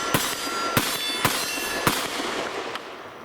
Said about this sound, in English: So let's just shoot some rounds through it, make sure that it's gonna run